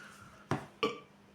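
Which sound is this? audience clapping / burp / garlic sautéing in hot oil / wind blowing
burp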